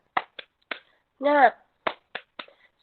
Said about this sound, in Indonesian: ayo kita lakukan secara bersama-sama ya. Tepuk semangat